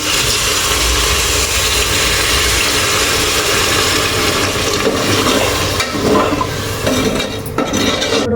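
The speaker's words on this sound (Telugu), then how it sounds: "కుక్కర్ అయితే వేడయింది విజిల్ రావడం స్టార్ట్ అయింది" A loud, steady rush of steam from a pressure cooker whistle, hissing continuously throughout with slight wavering near the end.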